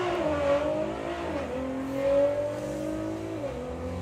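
An Audi S3 drag racing car in the 6-cylinder class accelerates hard through its gears, the engine note climbing, dropping at each shift and climbing again, heard from a moderate distance at a drag strip.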